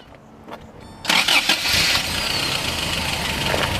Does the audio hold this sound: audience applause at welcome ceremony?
no